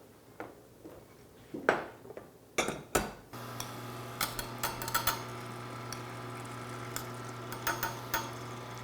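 A spoon scrapes and taps against a strainer and bowl as soy pulp mixed with water is pushed through, giving light irregular ticks and clinks over a steady low background hum, close and fairly quiet.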